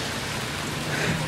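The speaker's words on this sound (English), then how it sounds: "And it's still raining outside." Rain falls steadily outside by a porch as a dense, even hiss, with no talk and no breaks.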